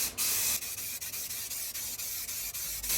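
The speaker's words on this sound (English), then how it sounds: "I better give them a good old spray" Spray can hissing as cut-out pieces get a flat black coat of paint, a steady continuous spray broken by quick regular pauses between passes, close and loud with no talking.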